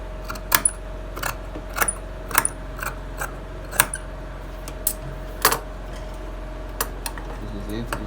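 Scissors snip at trouser fabric in a series of crisp, separate cuts spaced across the moment, close and fairly clear, with a steady low hum beneath.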